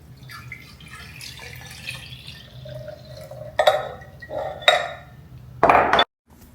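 Kool-Aid drink is poured into a container in a kitchen, giving soft trickling and dripping with a few clinks of glass or dishes, then a louder splashing burst near the end before it stops abruptly.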